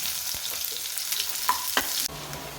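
Continuous bright sizzling of a chopped onion frying in hot oil in a pan, loud and close, with a couple of small clinks before the hiss drops to a softer level.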